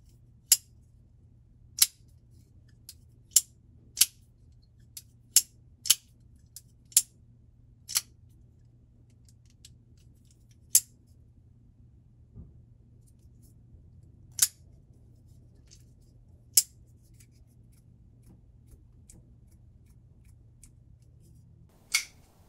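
An Artisan Cutlery Small Centauri folding knife with Pakkawood handle and Damascus blade being opened and dropped gives sharp, crisp metallic clicks, about a dozen scattered irregularly over a quiet low hum.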